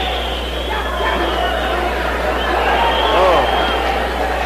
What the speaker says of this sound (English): the crowd here cheers their man on